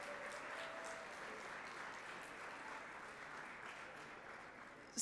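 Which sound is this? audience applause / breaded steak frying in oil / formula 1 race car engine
audience applause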